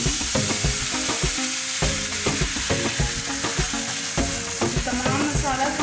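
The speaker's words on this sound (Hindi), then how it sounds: "अब ये जो चिकन है मैं ये इसमें डाल दूँगी।" Chicken sizzles and crackles loudly in an oil-free kadhai as it cooks for Chargha Biryani, with steady frying hiss and repeated scraping stirs, and nobody speaks.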